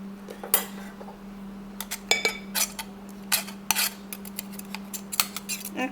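A pastry cutter scrapes and clinks against a bowl while blending cobbler crust, giving quiet, irregular metallic taps and scrapes in a steady series, close by with no talk.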